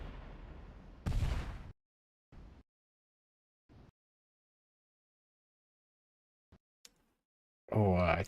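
Grenade explosions in the MetaOps shooter sound as several sharp booming bursts, a few loud and a few fainter, separated by silence, with a loud burst near the end.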